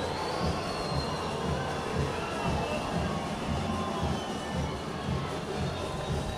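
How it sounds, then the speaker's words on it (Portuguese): Football crowd at the Almeidão stadium during a Brazilian match, a dense continuous roar with booing that holds steady and loud throughout, no individual voices standing out. "O torcedor vaia."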